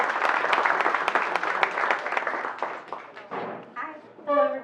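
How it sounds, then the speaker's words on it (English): An audience claps for sponsors, a lively burst of applause that gradually thins out and fades, with a voice starting to speak as the clapping dies away. "Please give them a round of applause."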